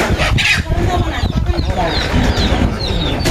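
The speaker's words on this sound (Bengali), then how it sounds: "দেশি মুরগি সব ধরনের খাবার খেয়ে থাকে" Free-ranging native village hens cluck and chatter continuously nearby under steady talking, with occasional higher calls rising over the flock.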